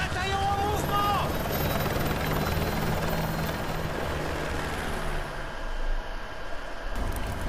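A helicopter in the Call of Duty Modern Warfare 2 video game drones with a steady rotor chop and engine whine, loud and continuous, with brief game voice and effects over it before the noise cuts out near the end.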